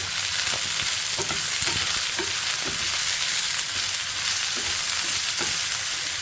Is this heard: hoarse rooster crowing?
no